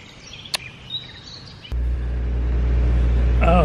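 A low water pump starts up partway through and hums steadily, growing slightly louder, after a quieter stretch with a few brief clicks and chirps.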